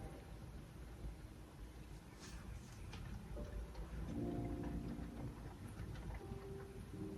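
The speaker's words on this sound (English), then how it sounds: "It's just started to rain." Rain beginning to fall outdoors, a soft continuous patter with faint low rumble and a few brief tonal sounds in the background, quiet and steady, with no talking.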